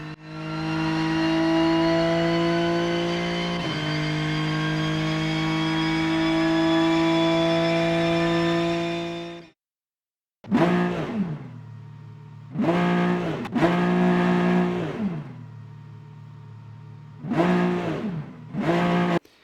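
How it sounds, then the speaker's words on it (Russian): A steady, flat race car engine drone from the sim racing game Rennsport, heard from inside the car, holds for several seconds, cuts out, then returns in short revving bursts that rise and fall in pitch. "Звук мотора. Он пока плоский, в салоне хуже всего."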